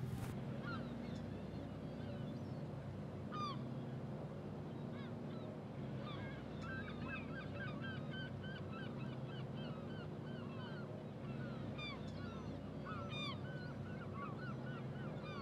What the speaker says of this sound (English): Well, no, they're seagulls.